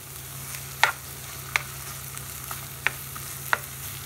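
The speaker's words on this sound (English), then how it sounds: "we're going to add in the chopped onion. And we're going to leave this for it to fry for approximately 5 minutes" Chopped onion frying in a pan gives a low, steady sizzle with a handful of sharp, isolated pops and crackles spaced a second or so apart.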